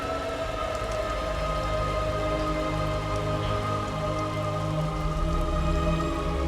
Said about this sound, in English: And yes, feel the rain.